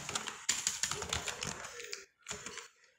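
Rapid typing on a computer keyboard, close and clear, with a steady run of crisp key clicks that briefly pauses and then resumes for a few more keystrokes.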